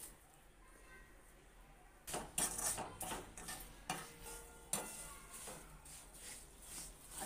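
A spoon mixes homemade garam masala and salt in a bowl: after a quiet start come close scraping strokes and sharp clinks against the bowl in an uneven rhythm, with no talk.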